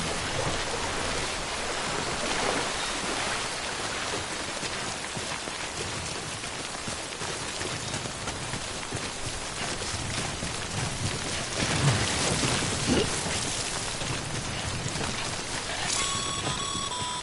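Steady rain hiss from Death Stranding's timefall storm runs throughout, loud and continuous, with a faint low rumble that may be distant thunder near the middle; no voices.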